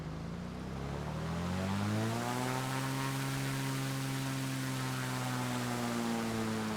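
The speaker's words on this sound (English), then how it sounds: "Let's hear the engine from the outside." Exterior engine sound of a Piper Arrow III in a flight simulator, a steady droning propeller-engine hum whose pitch rises slightly early on and then holds constant throughout.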